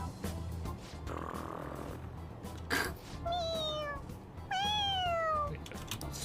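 A cartoonish cat meows twice in the video game Persona 5 Royal, rising then falling tones heard clearly over steady game music and background sound.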